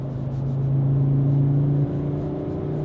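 Audi RS3 five-cylinder engine pulling under acceleration, a steady low droning hum that holds and shifts pitch slightly before settling, heard from inside the car without any talk.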